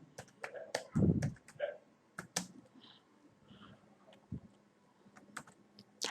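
Typing on a computer keyboard, with quick irregular bursts of crisp key clicks and a heavier thump near the start, close and clear in a quiet room.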